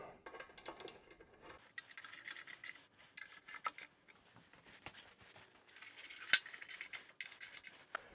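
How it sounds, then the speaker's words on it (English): Metal hardware work on a KTM 790 Adventure skid plate: light taps and rasping, scraping tool sounds as the plate is nudged up and bolts are tightened, irregular and fairly quiet with one sharp click near the end. "we're just going to give the skid plate a little tap up, and then we can tighten these 4 bolts."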